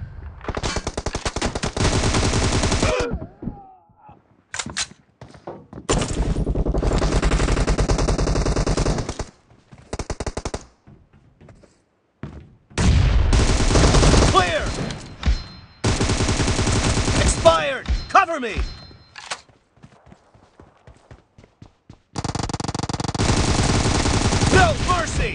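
Gunfire in the mobile shooter PUBG Mobile, played on an iPad, comes in long loud bursts of rapid automatic fire separated by short gaps, with a few single shots and brief bits of game voice lines.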